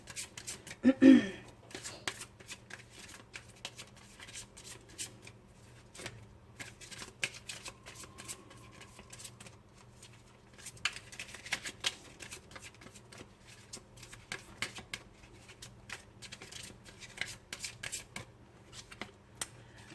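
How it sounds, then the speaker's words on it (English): Oracle cards being handled and shuffled produce a dense run of quick riffling and flicking clicks, close and fairly quiet, with one louder rustle near the start. "I'm going to take a card from the top and from the bottom."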